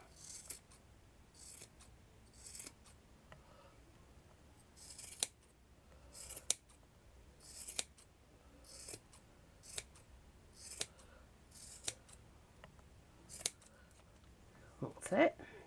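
Scissors trimming the top of a handmade doll, a quiet, close series of separate snips spaced about a second apart, with fabric rustling between cuts.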